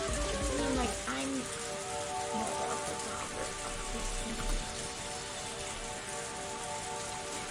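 Steady rain pattering down in a forest, a dense continuous hiss of drops with faint tonal music underneath throughout.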